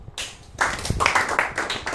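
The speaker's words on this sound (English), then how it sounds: "Round of applause." A small group claps briefly for a classroom shuttle sort demonstration, a sparse patter of hand claps building after a short quiet start, fairly close and moderately loud.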